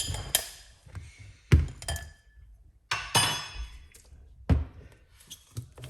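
A spoon clinks and taps against a glass while juice is being made: several sharp, fairly close knocks spaced irregularly over a few seconds, with no talking.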